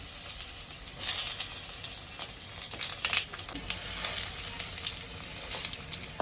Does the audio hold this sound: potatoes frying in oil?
yes